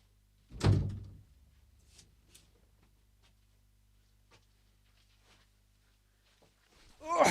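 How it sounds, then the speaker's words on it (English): An indoor door is pushed shut with one loud thud near the start, a quiet stretch follows with faint rustles, and a second solid knock lands at the very end. "Hold on, let me shut the door."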